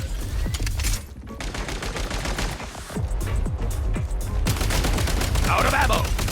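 Rapid video-game gunfire crackles in dense bursts with sharp repeated shots and impacts for several seconds, loud and busy, with brief game voice lines mixed in.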